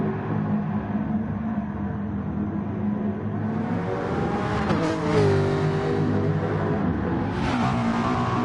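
Race car engine at Willow Springs in GT Sport, a sustained high droning whine that rises and falls through gear changes, loud and close, with a second car's engine sweeping in partway through.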